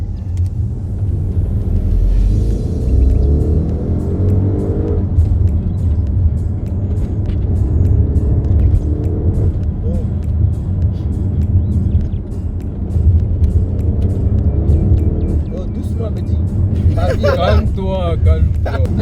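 An Audi RS7 with all-wheel drive accelerates hard in a straight line, a loud, continuous low engine roar and rumble sustained throughout, with people talking over it.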